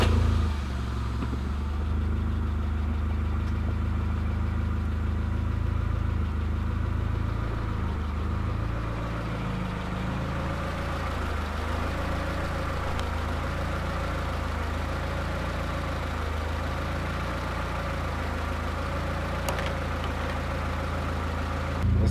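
A car engine with an idle problem runs steadily the whole time, a low continuous rumble with slight wavering in pitch and no talking.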